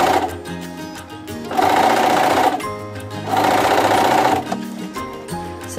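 A sewing machine back-stitches while ruffled sleeves are being sewn, running in two loud bursts of rapid mechanical stitching separated by quieter pauses and handling clicks.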